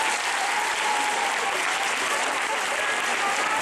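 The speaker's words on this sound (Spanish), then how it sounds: "Aplauso a todos juntos." Loud, dense audience applause fills a hypnotist's stage show, continuous full clapping from the crowd with no break for several seconds.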